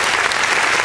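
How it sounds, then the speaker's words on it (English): Burst of applause sound effect played on a radio show, dense steady clapping and crowd noise filling the whole short moment, loud and alone. "Give him applause."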